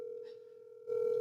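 A steady, unbroken telephone tone hums while a call is being placed, holding level throughout and growing a little louder and busier near the end.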